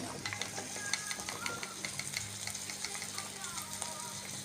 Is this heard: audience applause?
no